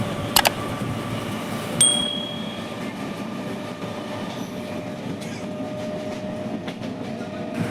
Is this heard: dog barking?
no